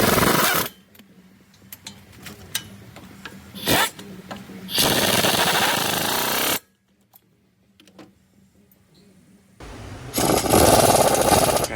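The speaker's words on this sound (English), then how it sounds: "Tighten this up with the gun and then torque it to 184 foot-pounds." A pneumatic impact gun tightens the front hub on a Ford Explorer during a hub bearing replacement, firing three loud, sustained hammering bursts separated by quieter gaps with faint clinks.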